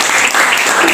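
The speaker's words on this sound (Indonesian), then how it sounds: "tepuk tangan dulu" Classmates in a classroom give a brief, loud round of clapping, dense and close for about a second.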